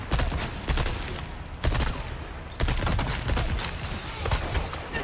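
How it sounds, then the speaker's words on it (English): Gunfire in Resident Evil 4 Remake crackles in loud, rapid bursts with short gaps between volleys, close and sharp throughout. "someone's trying to shoot me"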